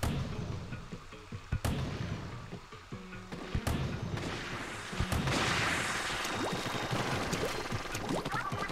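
Shooting at a propeller in the Splatoon video game, a spray of wet splattering ink shots with a few sharp thumps, busy and fairly loud against game music and effects.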